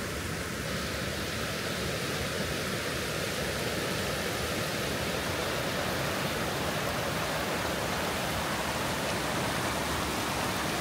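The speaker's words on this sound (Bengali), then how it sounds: "দারুণ একটা ঝর্ণার কাছে এসছে।" Steady, loud broadband rush of a waterfall beside the Annapurna Base Camp trekking trail in Nepal, an unbroken roar of falling water filling the whole clip with no voices.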